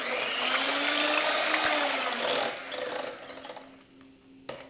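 Pancake batter with milk whipped by an electric mixer for protein pancakes, a steady close whirring drone that tapers off near the end, ending in a brief clack.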